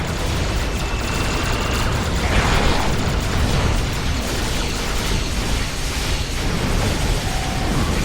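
Weapons fire and explosions in a Star Trek Online starship battle near Andoria: a dense, continuous wash of booming bursts and pops, loud and sustained throughout, with no talk.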